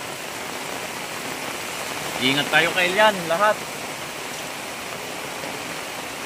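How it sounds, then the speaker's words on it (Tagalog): Steady, dense rain hiss from a typhoon fills the whole clip, with a person speaking briefly in Filipino in the middle over the downpour. "Lakas ng ulan."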